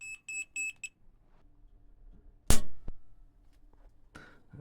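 An electrical tester checking a live wall circuit gives a short series of high, clear beeps at the start, followed by quieter handling noise and a couple of sharp knocks.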